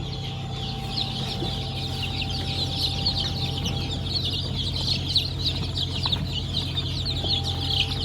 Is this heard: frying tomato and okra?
no